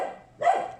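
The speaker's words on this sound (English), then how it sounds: "I apologize about my dog." One short, close dog bark rising out of quiet room ambience, with a faint trace of another dog somewhere outside.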